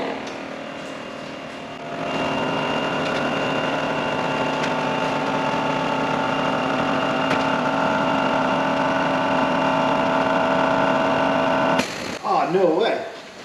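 A brand new air suspension compressor on a Lincoln Mark VII LSC fitted with used accumulators starts up and drones steadily with a close, even hum for about ten seconds, then a brief clatter as it cuts off.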